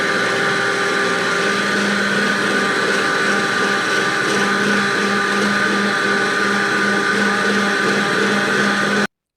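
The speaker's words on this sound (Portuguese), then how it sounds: "eu vou bater aqui, ó, os 3 ovos, uma xícara de açúcar e meia xícara de óleo" An electric blender runs continuously, loud and close, beating eggs, sugar and oil for a simple cornmeal cake batter, with a steady whirring drone that stops abruptly at the end.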